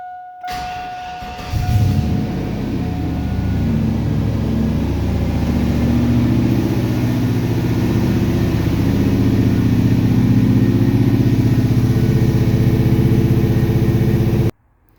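A 6.0L turbocharged V8 swapped into an AWD GMC Sierra cranks briefly and fires, then settles into a loud, steady close-up idle that runs uninterrupted before cutting off abruptly at the end.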